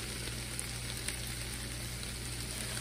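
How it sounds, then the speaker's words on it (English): Chilies stir-frying in a pan with soy sauce and hoisin sauce give a faint, steady sizzle with soft crackles and no talking. "Stir it up. Fry it up a bit."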